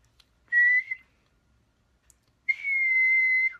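A person whistles two clear, steady notes, one short and then one longer, close and alone in an otherwise quiet room.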